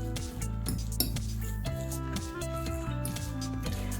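A fork mashes and stirs rich, fatty homemade cottage cheese in a bowl, giving soft squishy smears broken by quick metallic clinks against the dish, close and continuous with no talking.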